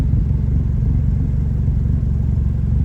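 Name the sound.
car with custom exhaust revving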